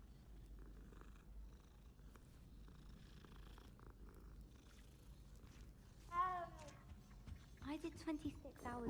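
A cat purring while being petted in the video game Hogwarts Legacy, a soft low rumble under quiet background sound, with a voice talking near the end.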